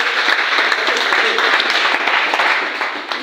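A church congregation breaks into loud, sustained applause, dense clapping filling the room evenly from start to finish.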